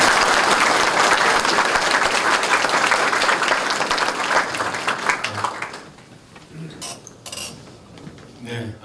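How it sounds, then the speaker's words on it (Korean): Audience applause at a Gyeongbuk Provincial Police lecture on big data welcomes the visiting professor, dense and loud clapping for about six seconds before thinning out into a few scattered claps and small clatters. "예배한 박수로 환영해 주시기 바랍니다."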